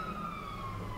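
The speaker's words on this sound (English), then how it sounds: "Ooh, police siren, can you hear that?" A police car siren on a London street sounds as a single steady wailing tone sliding slowly downward, moderately loud over low traffic rumble, with no talk.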